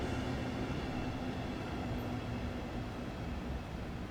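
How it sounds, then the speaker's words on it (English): Train arriving in Train Sim World 5 on the South Eastern High Speed line, heard as a faint, steady rumbling rail noise with a low drone holding evenly throughout and no voices. "There's a train coming in."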